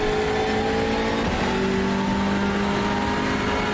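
Hyundai Elantra race car engines in iRacing at Watkins Glen, a loud continuous drone with a gear shift partway through and another car close behind, no talk over it.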